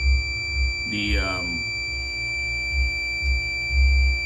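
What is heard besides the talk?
multimeter beeping on closed contact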